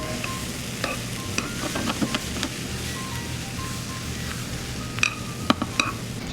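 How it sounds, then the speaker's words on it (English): Rice sizzling and popping in a hot pan alongside blackberry juices and natural sugars, a dense steady hiss with scattered small pops and a few louder stirring clatters near the end. "You can hear the popping, that's the rice"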